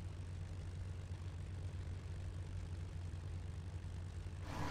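Aircraft engine drone from a plane taxiing toward the runway in the IL-2 Cliffs of Dover flight sim, a steady loud rumbling hum with a rattling, straining edge throughout, briefly shifting at the very end.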